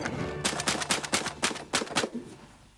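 A rapid string of about a dozen sharp gunshots cracking in quick succession, fairly loud, then a fading echo.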